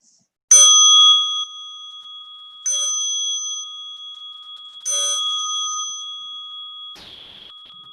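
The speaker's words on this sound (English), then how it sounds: "As you listen to the bell" A meditation bell is struck three times at steady intervals, each bright metallic strike ringing out and sustaining in a long clear hum. A fainter fourth touch comes near the end, with no talking.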